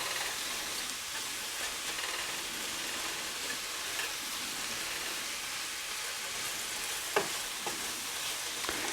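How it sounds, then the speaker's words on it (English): Mushrooms sautéing in a pan, a steady faint sizzle and crackle throughout with one brief spoon clink near the end, no talk. "And just give this a stir here and there. We're waiting for the mushrooms to cook down, brown, look a little bit translucent"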